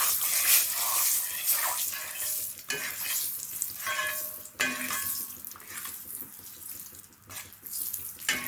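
Curry powder fries in hot oil for Jamaican curry oxtail, a loud, steady sizzle broken by repeated scraping stirs of a spoon against the pot, with no talking.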